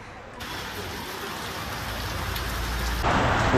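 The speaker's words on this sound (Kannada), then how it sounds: "ಫುಲ್ ಮಳೆ ಬರ್ತಾ ಇದೆ." Heavy rain pouring down in Munnar, a dense, continuous roar of drops hitting surfaces nearby that grows slightly louder toward the end, with no talking.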